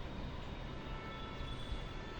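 A metro train runs past in a steady, even rumble with hiss, fairly faint and continuous with no voices.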